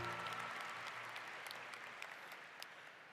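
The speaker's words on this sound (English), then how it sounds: "Give your fellow students a round of applause" A commencement audience applauds graduating students, with steady, dense clapping filling a large hall and slowly tapering toward the end.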